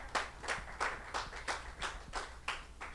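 Church congregation clapping in a steady rhythm, about nine sharp claps over a few seconds, with a low hum of the hall underneath and no talk.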